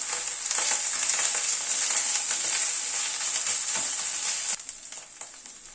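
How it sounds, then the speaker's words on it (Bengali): Ginger, onion and garlic paste sizzles and is stirred in hot oil in a pan for a chana dal with prawns: a steady, close crackling fry that drops noticeably quieter near the end, with scraping stirs and no talk. "আদা, পেঁয়াজ, রসুন সব কিছুকে একসাথে একটু নাড়াচাড়া করে নিচ্ছি।"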